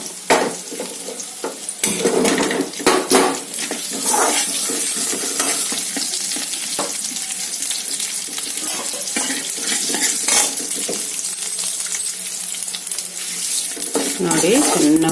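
Cumin and mustard seeds roast in ghee in a pan, giving a loud, close crackling hiss with sharp bursts and stirring scrapes, broken by brief gaps. There is no speech.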